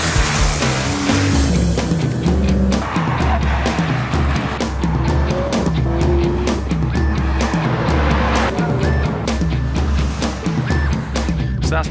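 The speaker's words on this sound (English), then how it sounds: "So that's the final lap in the McLaren." McLaren 12C with a twin-turbo V8 and carbon fibre chassis driven hard around a race track, engine roaring steadily close by with rising and falling revs through gear changes and some tyre squeal.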